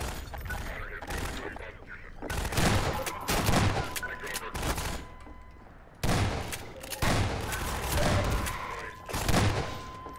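Bursts of gunfire from Half-Life 2 fire in clustered volleys with short pauses between them, loud and punchy, while a voice talks faintly underneath.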